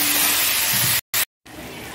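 Potatoes fry in a pan with a broad, steady sizzle and hiss, briefly cut to silence twice near the middle before the frying resumes.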